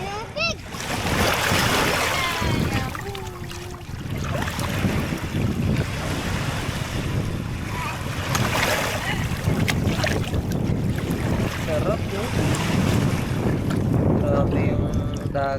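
Sea waves wash onto a beach at a resort in Iba, Zambales, a steady rush of surf blended with heavy wind buffeting the microphone, while people talk and a voice is heard over it.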